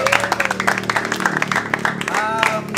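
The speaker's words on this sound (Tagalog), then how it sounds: "Bigyan siya natin ng palakpak dahil siya nanalo." Audience applause for the winner at a FlipTop rap battle, a dense patter of clapping filling the room with a voice talking over it and bits of music in the background.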